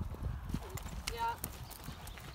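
Horses at a barrel racing horsemanship session clip-clop nearby with irregular hoof beats, while people talk over them.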